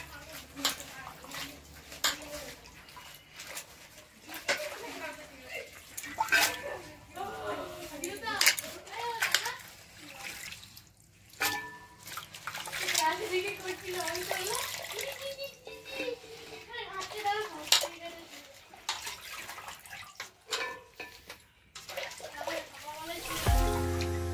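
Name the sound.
water running while washing cut palong greens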